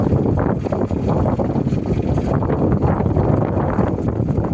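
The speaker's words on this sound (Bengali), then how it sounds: "প্রচণ্ড হাওয়া দিচ্ছে, ওয়েদার খুব খারাপ।" Strong wind roars steadily in bad, rainy weather, buffeting the microphone with a dense, low, continuous rush and no speech.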